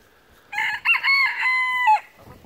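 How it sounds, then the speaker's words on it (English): A small white rooster crows once up close, a loud, clear cock-a-doodle-doo lasting about a second and a half with a brief break near the start, in a quiet free-range yard. "He's another one of our roosters."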